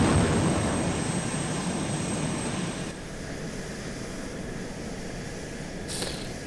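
A helicopter flies in the military video game Arma 2, a steady loud engine and rotor drone filling the scene, dipping slightly midway and holding on without speech.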